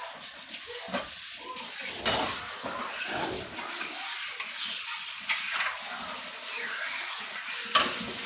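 Metal canning jar lids are rinsed under running water, with a steady close splashing hiss and scattered clinks and knocks of the lids against each other and the sink.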